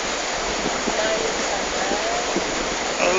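Steady dense rain pours during a typhoon, a continuous broadband wash with a few faint splashy accents, heard at constant loudness throughout.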